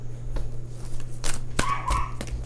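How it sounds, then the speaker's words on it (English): A dog gives several short, sharp barks and yips in quick succession, fairly close, over a low background hum. "Sorry about my dog, guys."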